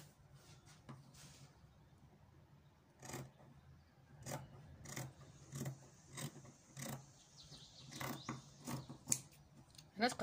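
Scissors cut through abaya fabric in a series of sharp, rhythmic snips and rasping slides, fairly quiet and close, with brief pauses between cuts and a person talking intermittently.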